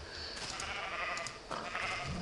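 A brown sheep in the Minecraft video game bleats in a rough, wavering cry, heard clearly over a busy background of game sounds.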